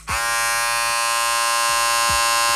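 A steady, loud electric buzz of a WMark NG-995 electric shaver running continuously, with a strong humming drone and faint periodic ticks.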